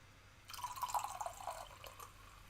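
A drink poured during a BeamNG driving game session: a soft, steady stream of liquid trickling and splashing into a container for about two seconds, fairly faint and close, with no talking.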